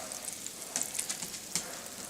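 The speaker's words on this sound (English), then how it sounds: "We're starting to melt up the butter" Butter melting in a pan where Cajun shrimp is cooking over medium heat, giving a soft, steady sizzle with a few louder crackling spits, heard close and on its own.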